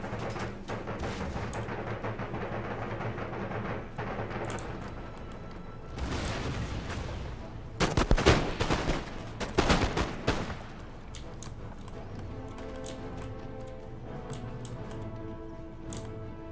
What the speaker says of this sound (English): Are they firing cannon blasts with their guns?